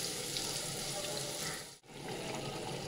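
Bottle gourd frying in a pan with spices, a steady dense sizzle close by, broken by one brief dip midway before the hiss resumes, with no talking.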